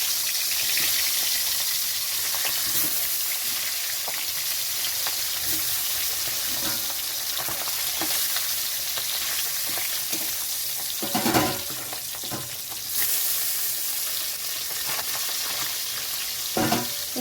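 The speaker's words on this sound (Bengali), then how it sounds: "মাছটা খুব তেল ছিটায়, তার জন্য চাপা দিয়ে রাখছি যাতে না গায়ে আছে তেল ছিটে" Tengra fish frying in a pan of oil, a dense steady sizzle with scattered pops and spatters, plus a few louder clatters partway through as the pan is covered and uncovered.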